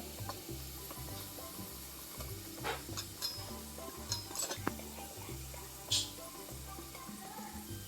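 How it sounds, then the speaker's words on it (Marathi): Onion with Agri masala, turmeric and garam masala frying in a pan, a soft continuous sizzle with occasional stirring scrapes and clinks, fairly quiet with a low background hum. "आता मसाले ना परतून घेते मी"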